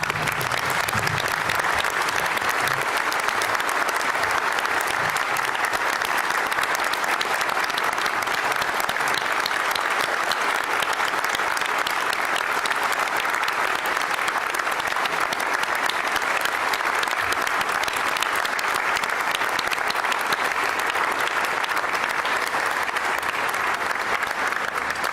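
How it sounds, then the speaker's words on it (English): A large standing audience at a graduation ceremony gives worthy recipients a long round of steady, dense applause that holds at an even level for about twenty-five seconds without talk. "stand, please, and applaud these worthy recipients"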